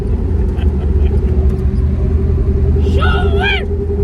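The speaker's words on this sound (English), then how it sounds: "But feel that 6-cylinder power." A GM X-body car's six-cylinder engine idles with a steady, close, low rumble; a brief high chirping sound rises near the end, with speech-like sounds also present.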